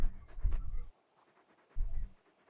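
Torgal, the large dog companion in Final Fantasy XVI, pants in two close bursts of breathy huffs separated by a short quiet gap.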